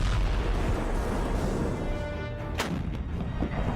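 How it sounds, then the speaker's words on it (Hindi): An M982 Excalibur 155 mm artillery shell is fired, a heavy sustained rumble with a sharp crack partway through, dense and loud throughout with no voices. "ये है ज़ेलेंस्की के लिए तोप का नया गोला M982"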